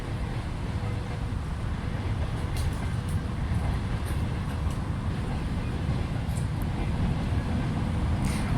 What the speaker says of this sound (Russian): грузовой поезд едет